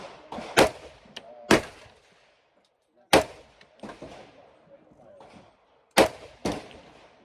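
Shotgun blasts at an outdoor gun range: three loud, sharp reports, each followed closely by a second crack or echo, spaced about three seconds apart, with faint talk in the quiet gaps.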